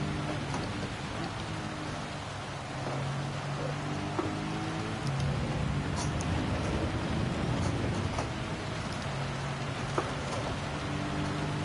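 Steady rain hiss in Gran Turismo 7 on the wet Spa-Francorchamps circuit in Belgium during a British Touring Car Championship race, a dense continuous wash of droplets over a low engine drone, with occasional brief spikes.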